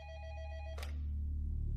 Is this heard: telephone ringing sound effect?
yes